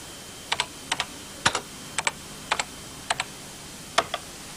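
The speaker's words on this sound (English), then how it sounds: "we can insert a new line simply by typing its number and then the text of the line" Typing on a 1983 BBC Micro computer keyboard: about a dozen crisp, close key clicks struck in loose pairs and singles, steady and unhurried, with no talking.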